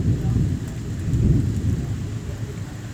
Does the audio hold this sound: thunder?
yes